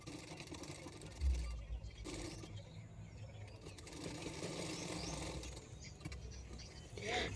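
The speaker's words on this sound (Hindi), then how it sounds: "हाफ इंच मार्जिन रखकर मैंने स्लीव को सिलाई कर लिया है" A sewing machine stitching the sleeve of a blouse with a half-inch seam allowance: a soft, continuous mechanical whir with a faint rattle, steady and quiet throughout.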